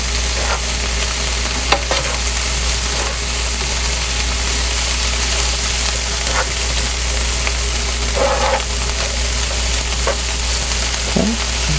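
Cabbage stir fry cooking in vegetable oil, a steady loud sizzle and hiss throughout with occasional scraping stirs of a utensil against the pan, no talking.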